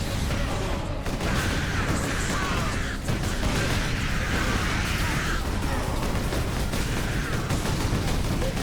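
A frag grenade goes off amid continuous dense gunfire and explosions in a Warhammer 40k: Space Marine battle, a loud, unbroken wall of combat noise with no speech.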